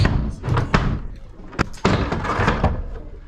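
Wooden boards being knocked loose from a log cabin wall during dismantling: a series of sharp knocks and thuds, two loud impacts standing out, with scraping clatter between them, close and loud.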